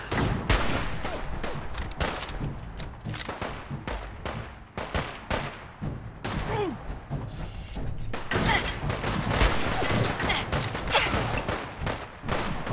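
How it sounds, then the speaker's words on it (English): Gunfire in the Fallout 4 video game, a rapid fusillade of close, punchy shots and bursts that rattles almost continuously, with a short lull midway before heavy firing resumes. "Who is shooting?"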